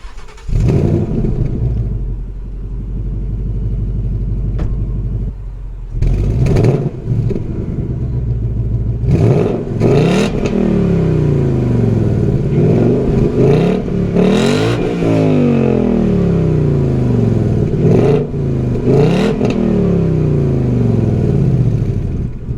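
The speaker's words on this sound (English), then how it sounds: "It's a very quiet exhaust." A car with a quiet aftermarket exhaust idles, then is revved in a series of sharp blips with rising and falling pitch, close and fairly loud, no talking.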